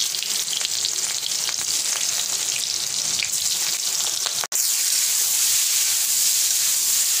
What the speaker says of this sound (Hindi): तो ऑयल गरम हो चुका है, कटहल को हम फ्राई कर लेंगे।